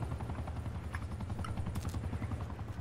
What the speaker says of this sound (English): Call the attack chopper in.